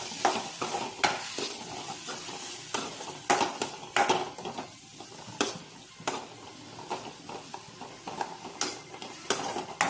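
Stirring a spiced egg bajji batter with salt, chili powder and turmeric in a bowl, giving repeated scraping and clinking strokes at close range, alone with no talk.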